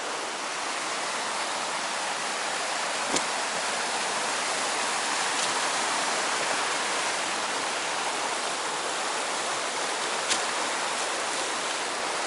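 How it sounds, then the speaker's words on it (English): A Himalayan river gushes in sub-zero cold, a loud, steady broadband roar of rushing water that fills the scene continuously, with a few faint clicks and no voices. "And you can see the gushing water."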